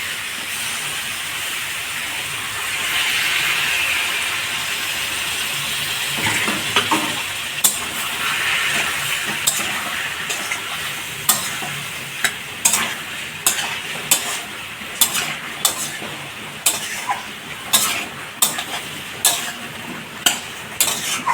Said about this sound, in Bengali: টক দইটা ভালো করে ফেটিয়ে নিচ্ছি